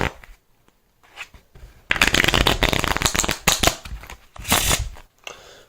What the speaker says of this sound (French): Et je vais même mélanger le jeu.